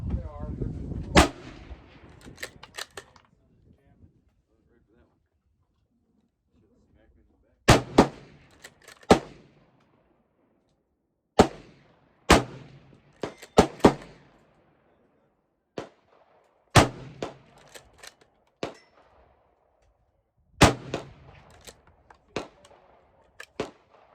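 A Savage 110 Tactical rifle fires about a dozen sharp, loud cracks, each ringing briefly outdoors, spaced in irregular clusters with quiet gaps between. A low voice sounds briefly at the start.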